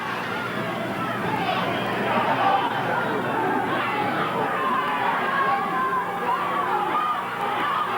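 Spectators at a 1980s Portland wrestling match, with Roddy Piper in the ring, make a dense, moderately loud roar of massed voices that rises and falls in waves, suggesting a rhythmic chant inside the hall.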